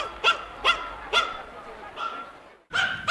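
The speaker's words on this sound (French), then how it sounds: "qu'est-ce qu'il a aboyé comme ça?" A small dog barks sharply at a window, four to five close, loud yaps in a quick uneven series, then a brief pause before another bark, in an animated scene.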